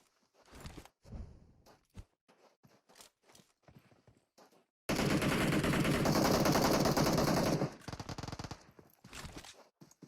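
Gunfire in the PUBG Mobile video game during a tournament match: scattered single shots and footsteps, then a loud sustained burst of automatic fire lasting about three seconds, followed by more sporadic shots.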